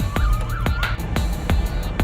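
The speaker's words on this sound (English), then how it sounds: "there was an ambulance" An ambulance siren wails loudly through the whole stretch, its pitch rising and falling as it passes close by along a street, mixed with traffic rumble and repeated sharp knocks.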